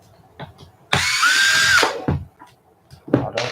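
Power drill whirring in one loud, close burst of about a second, spinning up and holding a steady whine, with a few faint handling clicks and knocks before and after.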